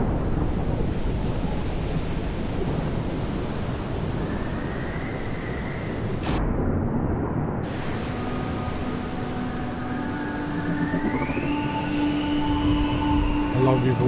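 Rolling waves and rushing wind from a water level in the game Exo One, a steady broadband surf wash that holds for the whole stretch, with faint rising tonal whooshes drifting over it.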